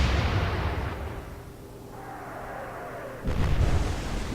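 Naval gunfire in the Atlantic Fleet video game during the Battle of the River Plate against the Spee: a loud booming salvo fades into rumbling, then a second heavy blast lands near the end, with no voices.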